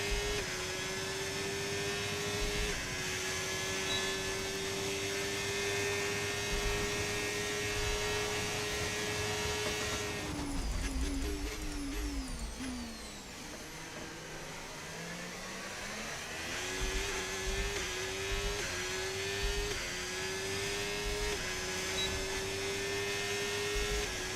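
An F1 car engine screams steadily at high revs in F1 25 at Miami, then drops sharply through downshifts and climbs again under acceleration. The tone is close and continuous, with no voices.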